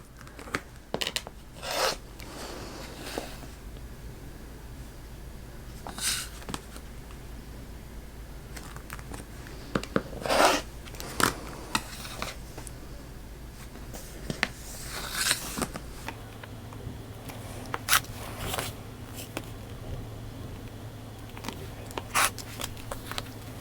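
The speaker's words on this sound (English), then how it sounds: "We'll cut our little squares out" Quilt fabric being cut into squares along a ruler, a series of scattered rasping cuts and soft rubbing sounds spread over more than twenty seconds, close and fairly quiet with no talking.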